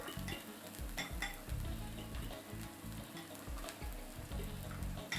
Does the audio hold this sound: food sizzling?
yes